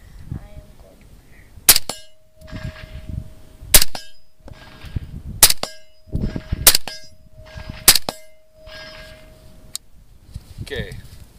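Five suppressed gunshots ring out outdoors, spaced roughly two seconds apart, each a sharp crack followed by a metallic ring, with people talking and reacting between the shots.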